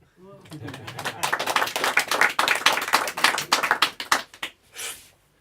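At a French stand-up comedy show, an audience breaks into crisp, distinct clapping that builds after a brief pause, holds for a few seconds, then tapers off into a last few scattered claps.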